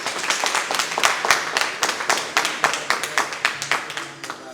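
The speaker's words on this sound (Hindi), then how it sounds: "सबसे पहले मैं चाहूंगा कि आप सर के सम्मान में जोरदार तालियां बजा दें यहां पे।" An audience claps in honour of a guest at a motivational network-marketing event, a close, distinct burst of hand claps that thins into slower, separate claps toward the end.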